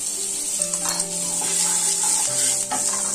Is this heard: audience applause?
no